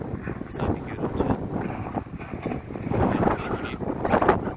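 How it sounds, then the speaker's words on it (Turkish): Wind buffets the microphone at a cold, snowy housing construction site, producing a continuous low rumbling roar that swells and dips in gusts. "Buralarda bayağı bir rüzgardı."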